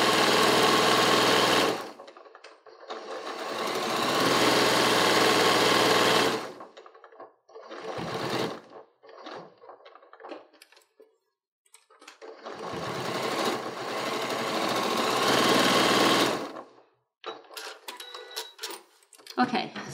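A sewing machine stitches a fabric headwrap in two long loud bursts of rapid, close mechanical chatter, with short stop-start runs of stitching in between.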